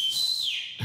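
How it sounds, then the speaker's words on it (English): A loud two-finger whistle blown through the mouth, a single shrill tone that holds steady and then slides downward before cutting off, heard alone with no talk. "He put the two fingers in his mouth and blew."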